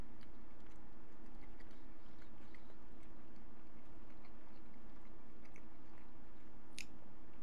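Someone chews a Firehouse Subs sandwich with onion up close, with soft, wet chewing and small squishy bites over a constant low background hum.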